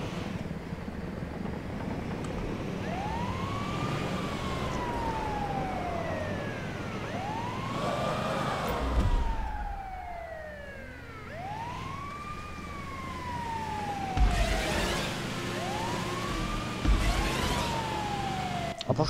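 A wailing ambulance siren in GTA 5 cycles through repeated rising and falling sweeps, steady and fairly loud over a rumbling engine-like bed, with occasional thumps and impacts.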